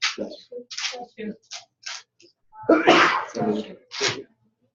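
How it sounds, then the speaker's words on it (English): A single sharp human sneeze, muffled as if into an elbow, stands out close and loud between bursts of nearby talk. "Good vampire sneeze, I like"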